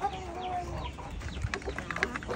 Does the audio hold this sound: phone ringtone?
no